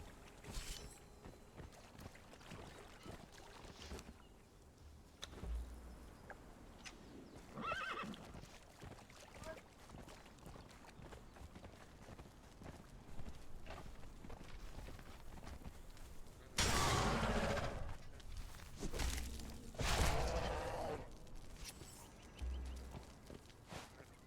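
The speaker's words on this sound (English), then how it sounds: "Stupid horse." A horse in the Conan Exiles video game neighs and whinnies, with clip-clopping hooves and footsteps, plus louder bursts of movement later; no talking.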